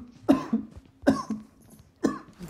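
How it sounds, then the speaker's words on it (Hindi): Three harsh coughs from a man, close to the microphone and spaced evenly about a second apart, with quiet background between them. "साला खांसी हो गई"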